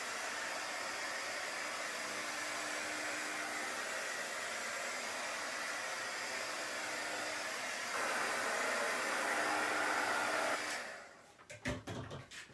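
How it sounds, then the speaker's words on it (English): A heat gun blows a steady, loud whooshing stream of hot air while drying chalk paint, running continuously for about ten seconds before cutting off, followed by a few handling clicks. "This is a heat gun. Just kind of dries things a little bit faster"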